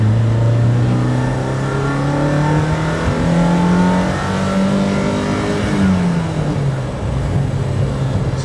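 A 1986 BMW M3 E30 race car engine revs loud and close, pitch climbing and falling through the gears as it accelerates along a winding road, with steady engine drone throughout and no talk.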